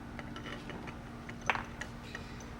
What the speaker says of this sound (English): I like to use a speed wrench.